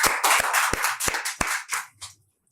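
An audience at a Hindi poetry recital claps for a poet, with a short burst of sharp, scattered handclaps. The clapping thins and fades to silence after about two seconds.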